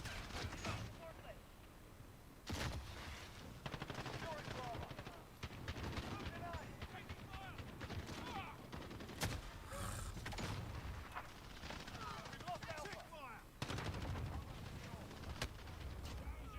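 Rapid gunfire in a first-person shooter video game, bursts of automatic fire and single shots running almost continuously, with a player talking over it.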